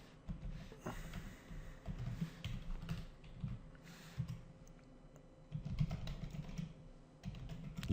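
Typing on a computer keyboard, a quiet, close run of uneven key clicks in short bursts with brief pauses, with no talking.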